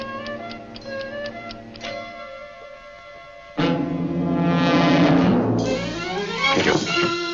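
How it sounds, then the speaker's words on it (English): A clockwork time fuse on a bomb ticks steadily under sustained, horn-like dramatic music that swells louder and denser midway through. "I've got the bomb here and it's ticking"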